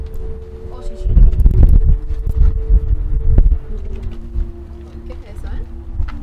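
Wind rushes around a Freightliner Classic truck and trailer, giving a low, throbbing hum with a steady tonal whistle above it, loud and close to the microphone.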